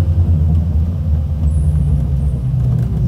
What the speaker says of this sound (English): It's a bus.